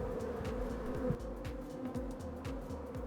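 Honeybees swarm inside a chimney, their steady droning buzz filling the space loud and close, with a constant hum and small swells of intensity throughout.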